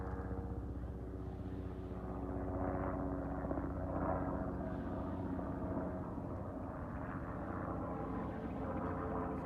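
A jet aircraft passing overhead on a record-cold day, a steady distant engine roar with slow swells in loudness, alone and without talk.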